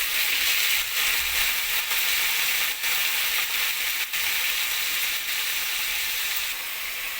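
Chopped papaya and potato hit hot oil in a pan while cooking a papaya curry, producing a loud, steady, close-up sizzle that hisses continuously throughout with faint stirring clatter.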